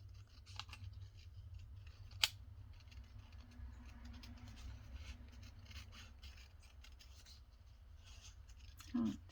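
Scissors cutting a small piece out of paper, a faint, close, continuous snipping and rustling that runs through the clip, with one sharp click partway and a brief louder rustle at the end.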